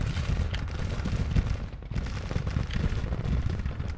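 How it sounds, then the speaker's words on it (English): Civil War cannons fire in the Grand Tactician strategy game, a dense, continuous rumble of booming artillery and crackling volleys with no clear pauses. "Cannons have opened up."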